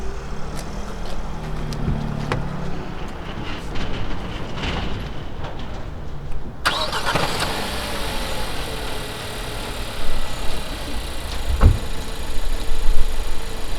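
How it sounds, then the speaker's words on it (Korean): A Renault Samsung SM6 2.0 GDe engine idles with a steady, quiet hum, and a passing vehicle rumbles nearby partway through. "이제 이 차량의 엔진 상태 한번 들으셔야겠죠"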